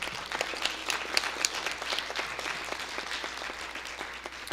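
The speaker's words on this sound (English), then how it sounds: "Let's give both Tioga and Wellsboro a round of applause." Sustained audience applause at a scholarship quiz competition finals, a dense, even patter of many hands clapping, fairly far off in a large room, continuing steadily without talk.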